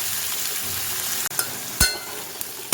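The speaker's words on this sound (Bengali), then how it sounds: "দিয়ে পেঁয়াজটা একটু ভাজা ভাজা করব।" Sliced onions frying in a pan of hot oil make a steady close sizzle, with a couple of sharp clinks and scrapes from stirring.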